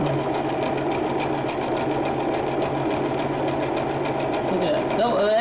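A home sewing machine stitches rope into an embroidered bowl, a steady fast mechanical whir running throughout with light speech over it near the end.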